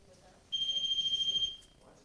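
A REM pod detector sounds a single steady electronic tone for about a second, clear and close, inside the old Hamilton County Jail in Jasper, Florida, against a quiet background with faint voices around it.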